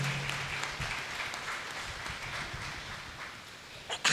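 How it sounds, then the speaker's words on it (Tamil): A church congregation claps hands steadily in worship in a dense, continuous patter, moderately loud and sustained throughout, with no clear speech over it. "கைத்தட்டி ஆண்டவரை மகிமைப்படுத்துவோம்"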